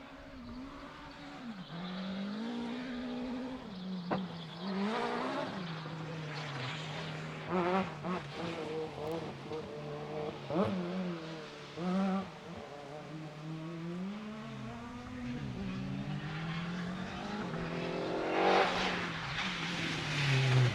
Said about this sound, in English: that very crisp sounding Vauxhall Corsa